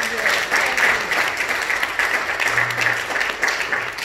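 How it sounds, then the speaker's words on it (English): Applause at a graduation celebration for a commencement speaker, a loud, steady crowd clapping, with voices murmuring and calling out underneath throughout. "Let's give him a great applause."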